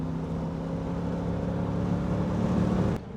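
A Triumph Stag V8 pulls in a lower gear, its engine giving a steady, deep, throbbing drone that swells slightly before cutting off abruptly near the end.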